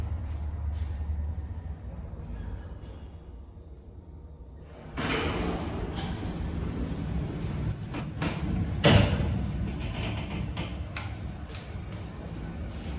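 Vintage OTIS freight elevator doors in a university hall slide and clatter, starting after a quiet stretch with a rumbling roll, several sharp knocks and a thud, then settling into a lower mechanical hum.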